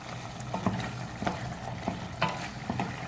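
Chicken karahi is stirred in a pan, with a soft sizzle running under repeated scraping strokes of the utensil at an irregular, fairly quick pace.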